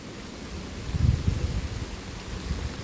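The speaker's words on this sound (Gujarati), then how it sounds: "કેટલો વરસાદ પડે છે તમે જોઈ શકતા હશે" Steady heavy rain hiss with low rumbling gusts, swelling briefly louder in the middle before settling back into a constant downpour.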